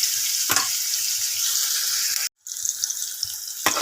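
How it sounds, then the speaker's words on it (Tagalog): Onion and garlic sautéing in a frying pan, a steady bright sizzle running throughout with a few sharp clacks of stirring and a brief gap where the hiss cuts out before resuming. "Gisa-gisa lang natin muna guys ng bahagya ang ating sibuyas at bawang."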